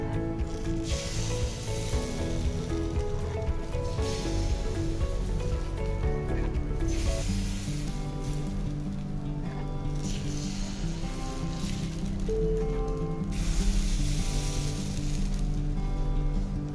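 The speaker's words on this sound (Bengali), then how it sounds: "তো আমি দ্বিতীয় ব্যাচের পিঠার জন্য ব্যাটারটা দিয়ে দিচ্ছি।" Rice flour batter for chitoi pitha sizzling in a hot mould, a dense continuous hiss and crackle with faint mechanical rattling underneath, steady and close.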